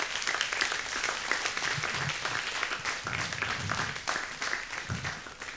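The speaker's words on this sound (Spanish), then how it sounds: "Denle un aplauso al Señor por esto." A church congregation claps in sustained, dense applause filling the room, steady throughout with slight swells and no break.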